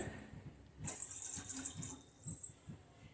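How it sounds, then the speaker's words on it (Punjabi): Water runs and splashes into a metal pan for about a second and a half, close by, for sugar syrup for gram flour halwa, then gives way to quiet kitchen clatter. "ਪੈਨ ਦੇ ਵਿੱਚ ਆਪਾਂ ਪਾਣੀ ਪਾ ਦੇਵਾਂਗੇ"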